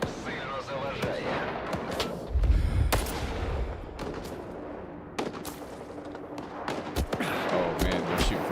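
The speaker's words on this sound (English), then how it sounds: "they're shooting from the windows or what?" Sniper gunfire cracking from windows in S.T.A.L.K.E.R. 2, with several sharp shots and a heavier burst scattered across the scene, mixed with game ambience and speech.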